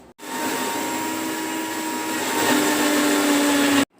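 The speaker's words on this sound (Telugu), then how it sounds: "ఇప్పుడు దీన్ని మిక్సీ పట్టుకుందాం." A mixer grinder blends musk melon juice with added sugar, a loud steady whirring drone that starts abruptly, rises slightly in pitch and intensity, then cuts off sharply after under four seconds.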